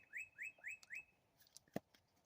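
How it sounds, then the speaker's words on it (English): A songbird outdoors gives four quick rising whistled chirps in a steady rhythm, then a few scattered fainter calls, soft and somewhat distant. "You hear that beautiful bird?"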